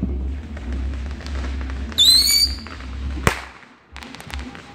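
Fourth of July fireworks crackle at a distance, with a whistling rocket rising partway through and one sharp bang soon after, over a low background hum.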